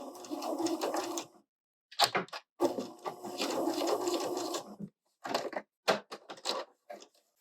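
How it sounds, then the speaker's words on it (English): A sewing machine stitches quilt binding near a corner and backstitches, running in several close, steady bursts with short pauses between them and stopping fully in places. "So once I'm 1/4 of an inch away, I'm going to backstitch."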